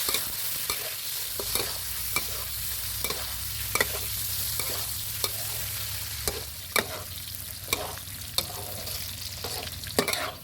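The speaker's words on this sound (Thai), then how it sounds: "จากนั้นก็ใส่หมู 3 ชั้น 350กรัมครับลงไปทอดนะครับ" Pork belly, trimmed of its skin, fries in a pan with a steady, continuous sizzle broken by small pops and crackles of spitting fat throughout, close and fairly loud with no talking.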